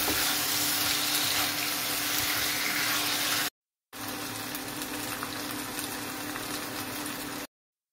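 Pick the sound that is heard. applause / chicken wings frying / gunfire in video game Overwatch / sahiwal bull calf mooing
chicken wings frying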